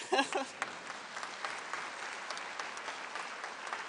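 A conference hall crowd at a Labour Party gathering breaks into applause, a burst of loud clapping at first that settles into steady, continuous clapping, with a voice briefly audible near the start.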